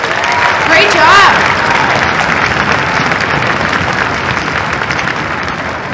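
A school audience at a string jamboree for 4th to 6th graders applauds loudly and steadily, with a brief cheer or whoop rising early on.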